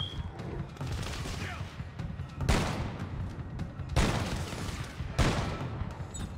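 Gunfire in the sci-fi horror game Dead Space 3: a continuous rattle of shots broken by three sharp, heavy blasts spaced about a second and a half apart, loud and close.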